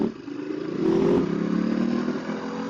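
A motorcycle rides and accelerates on a switchback road in Surrey, its engine droning steadily and rising in pitch as it pulls away, with some road clatter.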